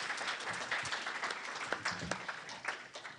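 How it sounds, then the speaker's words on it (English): An audience gives a round of applause, heard as fairly faint, scattered clapping with a few sharper individual claps, carrying on steadily throughout. "Let's give everybody a round of applause."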